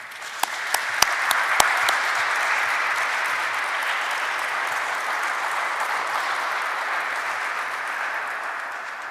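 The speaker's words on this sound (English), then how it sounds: "I think the panelists deserve a round of applause" An audience at a White House Conference on American History applauding the panelists, with sustained, even clapping from a large crowd and a few sharp claps near the start, continuing without talk.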